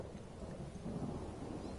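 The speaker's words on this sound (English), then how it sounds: "We can hear the distant thunder from the rift" Distant thunder rumbles low and steady in Skyrim near the Cyrodiil border, a faint continuous roll with a soft hiss of rain and no voices.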